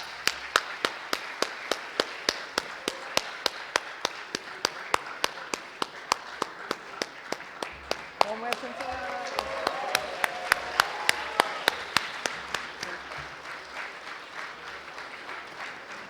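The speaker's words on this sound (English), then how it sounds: "Please put your hands together, ladies and gentlemen, with a thunderous round of applause" Audience at a speaker event applauding as cricketer Brian Lara walks on stage: a steady bed of crowd clapping runs throughout, overlaid by sharp, evenly spaced loud claps or taps, with a brief swell of music partway through.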